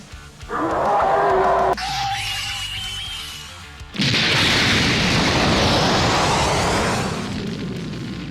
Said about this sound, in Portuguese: Eles lançam uma grande explosão, que fez com que eles fossem desintegrados.